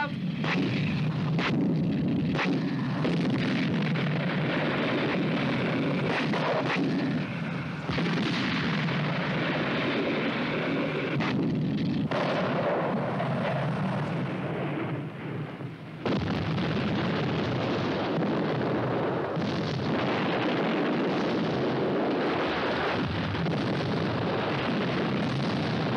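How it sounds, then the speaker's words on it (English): Divisional artillery of the British Army firing shells on defensive fire tasks, a continuous heavy rumble of distant booms and blasts, dense and sustained, with no voices. "Of the divisional artillery on defensive fire tasks. Some 150 shells a minute."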